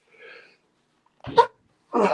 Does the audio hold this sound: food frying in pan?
no